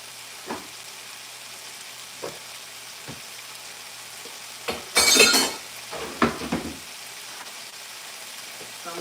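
Butter sizzles in a hot pan while tikka masala is cooked, giving a soft steady hiss broken by a few clinks of utensils and a brief louder crackling flare.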